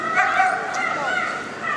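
Police dog at Crufts 2009 during criminal attack work, with a continuous rough, excited vocal texture at mid distance, mixed into steady arena noise and commentary for under two seconds.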